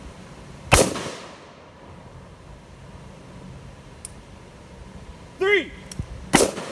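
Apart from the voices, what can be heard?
Kel-Tec RDB rifle gunshots at range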